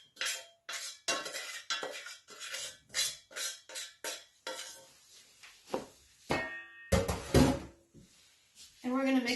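Oats, nuts, honey and melted coconut oil tossed together in a bowl for granola, with a rapid run of scraping, clattering mixing strokes and then a couple of louder knocks.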